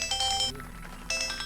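A mobile phone ringtone plays in two bright, electronic bursts separated by a short pause, fairly close and clear, with no talking over it.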